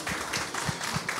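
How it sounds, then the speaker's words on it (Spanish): An audience applauds a guest arriving at a live horror-themed Christmas show, with a brief burst of steady, moderately loud clapping from a crowd. "Un fuerte aplauso para mi amigo Rafael Goyoneche"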